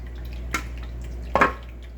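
Jalapeno hot sauce splashes from a container into a mesh strainer set over a mixing bowl, with two brief wet pours and drips against quiet room tone.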